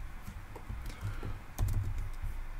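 Rapid keystrokes on a computer keyboard as a product title is typed, a close, brisk clatter in short irregular bursts with a denser flurry near the end.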